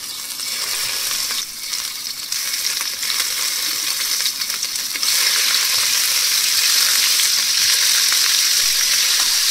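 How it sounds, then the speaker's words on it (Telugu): Cubes of paneer frying in ghee in a kadai, a steady loud hiss and crackle that swells a little partway through, close and continuous with no voices. "ఇలా పన్నీర్ని ఈ నెయ్యిలో 2 సైడ్స్ మంచిగా కాల్చుకోవాలండి"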